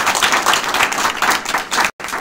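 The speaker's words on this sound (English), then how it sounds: "a round of applause." An audience at an indoor sales event gives a round of applause, dense steady clapping close by that continues without a break apart from a momentary cut near the end.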